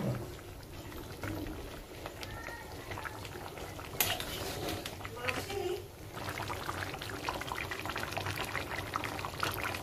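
Chicken curry with potatoes bubbles after hot water is added, giving a close, continuous liquid simmer and sloshing with a brief louder splash, while a voice speaks at times.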